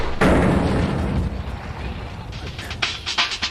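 A homemade artillery gun, built for a junkyard engineering contest, fires one loud blast that rolls on in a long, noisy roar. Fainter crackles and clatter follow as the sound fades outdoors.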